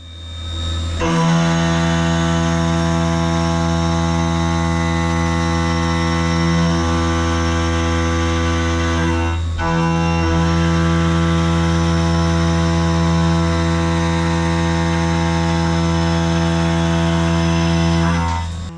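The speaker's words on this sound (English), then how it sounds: "that beautiful sound of an end mill hogging out material" A steady, loud machining drone with a strong tonal whine as an end mill hogs through metal at a large 85% stepover, continuous with a couple of brief dips.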